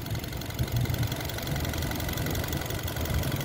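A 2015 Mazda2 with a 1.5-litre engine, assembled in Vietnam, idles smoothly and steadily at close range, a continuous low hum with a faint even ticking and no talk over it.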